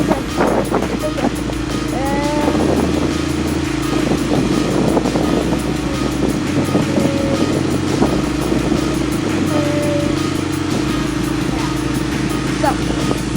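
A dirt bike engine revs up and down for a jump on a trail, its rising and falling drone loud and close, while people talk over it outdoors.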